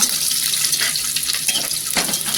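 Garlic sautéing in hot oil in a pan, a steady broadband sizzle with a few brief scraping stirs, close and moderately loud with no talking.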